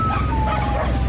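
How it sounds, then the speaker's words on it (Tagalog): Stray dogs on a provincial island in Rizal bark and yelp together, a dense, continuous chorus that sounds close and loud, with whimpering mixed in and no talk over it. "ang dami pang tumatahol dun"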